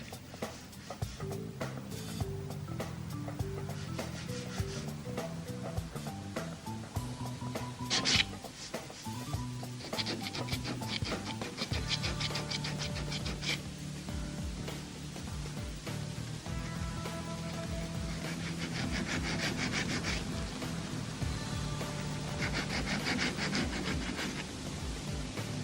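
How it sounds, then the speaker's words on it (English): Hand sanding of car body filler with sandpaper used without a block, a soft, continuous scratchy rubbing that keeps going for a long stretch, fairly faint, with steady back-and-forth strokes and a few brief knocks, all under background music. "It is sometimes helpful to use the sandpaper without the block."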